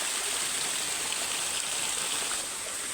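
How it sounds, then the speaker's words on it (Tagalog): A small river in Bukong Magallanes streams steadily over shallow rocks, making a continuous broadband rush of flowing water that stays close and even throughout, with no voices. "So ito na yung pinakamaliit na ilog dito sa Bukong Magallanes."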